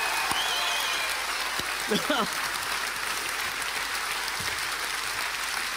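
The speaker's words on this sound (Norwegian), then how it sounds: "Mine damer og herrer, en stor applaus til Odd Nordstoga!" A television studio audience breaks into loud, continuous applause at the close of a late-night show, a dense, even clapping wash lasting several seconds, with a brief voice cutting through partway.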